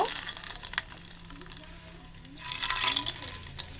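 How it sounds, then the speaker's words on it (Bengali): Whole garam masala spices fry in hot mustard oil with a soft sizzling crackle that swells near the end, accompanied by faint clinks from the pan. "সবকটা গরম মশলা ভালো করে এর মধ্যে ভেজে নেব"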